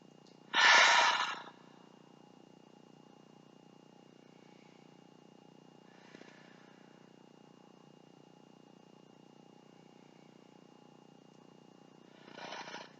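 Soft, slow breathing during a yoga pose in a Moon Salutation class, one clear breath near the start, a faint one in the middle and another at the end, over a low steady background hiss.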